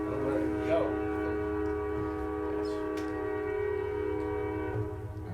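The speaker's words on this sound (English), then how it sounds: "waiting for the train" Train horn blaring in long sustained tones over the rumble of a passing train, close and loud, with faint voices briefly underneath.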